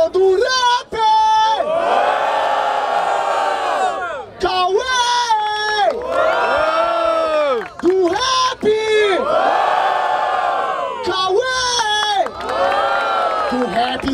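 Loud crowd at a rap battle, with chanted shouts and cheering roaring in repeated waves, cut by brief pauses, with strong sustained voices close by.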